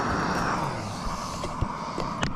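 A lit Camp Chef gas stove burner roars steadily with a broad, close rushing hiss, interrupted by a few brief clicks and knocks near the end.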